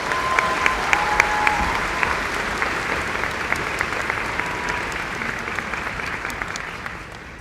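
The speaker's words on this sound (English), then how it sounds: "One more round of applause, please," Audience applause at a high school Class of 2025 graduation ceremony, broad steady clapping from a large crowd that holds for several seconds and thins slightly toward the end.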